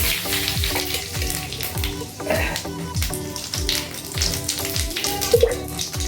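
Oil and a bay leaf sizzle loudly in a pan for chana masala, a dense continuous crackle punctuated by regular rhythmic scraping or tapping strokes throughout.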